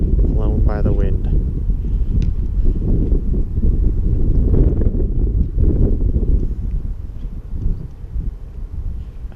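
Strong gusty wind buffeting a microphone during storm flying with a small UMX Conscendo RC glider, a heavy low roar that rises and falls, with a voice talking briefly near the start.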